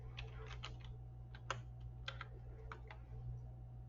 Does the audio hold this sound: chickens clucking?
no